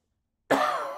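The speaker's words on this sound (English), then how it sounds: "Excuse me for the coughing." A single cough bursts out after silence, close and fairly loud, then trails off into a rough, breathy decay.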